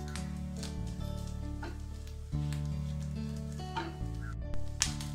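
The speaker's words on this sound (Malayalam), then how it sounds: "നമ്മളുടെ നാളികേരം ഇവിടെ ഏകദേശം മൂത്ത് വന്നിട്ടുണ്ട്." Grated coconut roasts in coconut oil in a pan for an Onam pumpkin-and-bean erissery, a steady close sizzle with occasional stirring scrapes under a faint tonal hum, and no talk.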